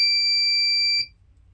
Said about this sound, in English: Whenever any burglar enters, it makes a beep as it cuts the light source